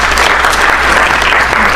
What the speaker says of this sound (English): Give Morgan a round of applause.